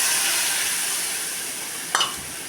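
A spice paste of onion paste, cumin, coriander powder and dry chilli powder fries in a pan for katla fish curry, sizzling steadily and close up, with one brief stirring scrape near the end.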